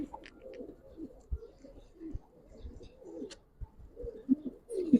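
Soft, close cooing of Giribaz pigeons, a run of low throaty coos repeating through the stretch at a quiet level, with no voices.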